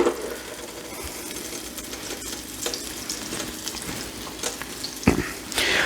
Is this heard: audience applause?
no